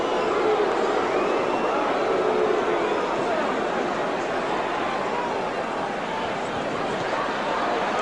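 A large arena crowd at the Muhammad Ali versus Joe Frazier heavyweight fight roars and jeers in a continuous, loud wash of noise, with no single voice standing out.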